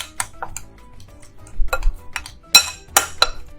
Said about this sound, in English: So I'll just give that a mix.